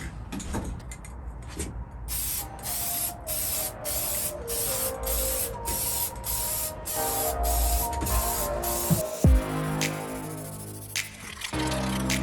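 Aerosol paint sprayed over bare metal and rust on a campervan floor being prepped, in repeated close hissing bursts with short pauses between them, then a can shaken and set down near the end, with no talking.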